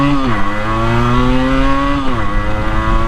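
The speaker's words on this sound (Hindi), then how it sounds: "ये अपशिफ्ट जो है मेरा विदाउट क्लच हो रहा है" Motorcycle engine revving hard and climbing in pitch, dropping briefly near the start and again around the two-second mark as gears are upshifted without the clutch, loud and close throughout.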